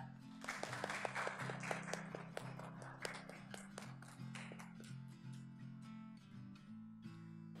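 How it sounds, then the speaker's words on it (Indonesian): Schoolchildren in a classroom clap for a group of classmates after a discussion. The claps are quiet, scattered taps over a steady low hum. "tepuk tangan untuk kelompok 2"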